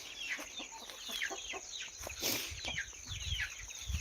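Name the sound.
chickens clucking at evening shut-in time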